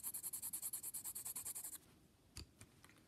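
A Prismacolor colored pencil scratches across paper in about fifteen rapid, even back-and-forth strokes, close and crisp. It then stops, leaving faint handling noises and a soft tap.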